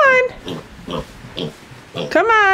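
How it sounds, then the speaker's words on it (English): Baby piglet oinking in a farmyard, a few short grunts spaced about half a second apart, close by, between squealy high voice sounds at the start and end. "Sophie, we're gonna have to capture the pig."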